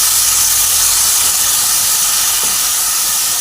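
Spice paste fries in a pan for a Bhetki fish-bone curry, giving a loud, constant broadband sizzle and hiss close up that holds unbroken for the whole few seconds, with no talk.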